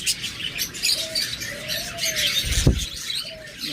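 A crowd of budgerigars at a bird market stall, continuous busy chirping and chattering with a few thin drawn-out calls and one sharp squawk, close and lively, no talk.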